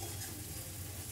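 Garlic and onions fry in a pan with a steady, soft sizzle that holds evenly throughout without a break, fairly quiet and close.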